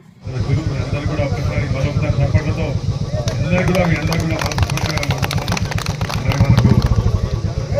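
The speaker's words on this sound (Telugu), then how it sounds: "భారీ ఎత్తున బైక్ ర్యాలీ నిర్వహించారు" A large election-campaign motorcycle rally through villages: many bike engines idle and rev together in a dense, clattering rumble, loud and continuous, with crowd voices mixed in.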